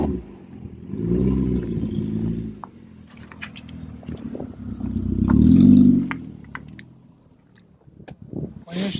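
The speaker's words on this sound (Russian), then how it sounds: "насколько ровно работает мотор, тоже непонятно, потому что он работает очень громко" Old blue station wagon with a loud engine idling and revving in low rumbling swells while loose suspension and exhaust parts clatter, heard close up under a man's speech.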